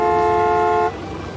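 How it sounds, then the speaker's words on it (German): A car horn in the Gas Station Simulator video game blares as one loud, steady honk lasting nearly a second, then cuts off abruptly, leaving quiet background noise. "hupt mich nicht an, ich hab Vorfahrt"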